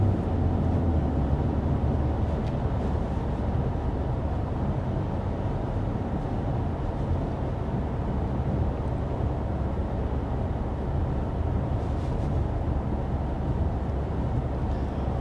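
A 2023 BMW X3 M40i cruising at 55 mph in comfort mode, heard as a steady low road and engine drone from inside the cabin. Tire hum and wind noise continue without a break.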